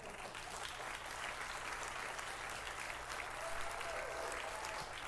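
A television studio audience claps for a talk show in a dense, steady burst of applause that fills the whole stretch at an even, close level.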